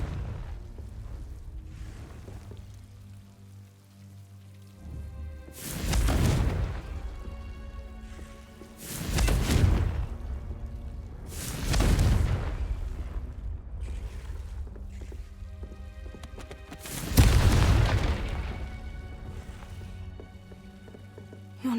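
Confringo spell blasts in Hogwarts Legacy, four loud broadband bursts with long decaying rumbles spread over about twenty seconds, over a steady low ambient bed with no talk.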